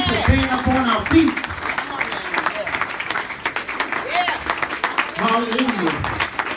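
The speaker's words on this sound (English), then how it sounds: "So we ought to really give him a big hand clap on today." Steady congregation applause fills a homegoing funeral service, mixed with voices calling out and talk over the clapping throughout.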